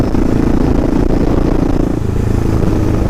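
A Kawasaki KLR650 motorcycle engine revs loud and close during a fourth gear wheelie, a steady rough roar holding high with a brief dip near the middle before pulling on.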